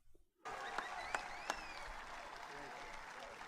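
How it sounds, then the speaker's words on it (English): Faint, distant crowd applause swells in after a brief silence, steady and washed out, with a few sharper accents and a background voice or tone gliding through it. "That's the applause when they want you to leave the stage."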